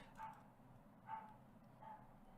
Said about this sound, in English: My dog is barking downstairs.